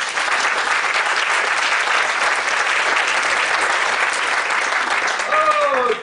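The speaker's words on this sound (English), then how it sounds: "Give him a big round of applause." An audience at a magic and psychology talk applauds steadily throughout, a dense, even wash of clapping that fades out at the very end.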